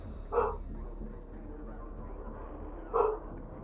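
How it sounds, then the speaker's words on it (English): A pet dog barks twice indoors, single loud woofs about two and a half seconds apart, over a faint low background hum. "I have a dog barking now."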